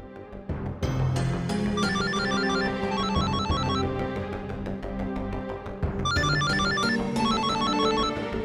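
A telephone rings in a Hindi TV drama scene, loud and repeating in bursts over a dense musical backdrop, with a brief pause before the ringing resumes.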